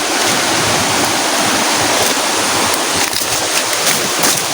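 A strong current of river water rushes loudly and continuously, a dense close-up roar of flowing water with no voices.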